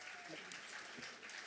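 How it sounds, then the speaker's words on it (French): Audience applause at a French business event, a steady wash of clapping across the room that holds at an even level throughout. "on peut l'applaudir bien fort."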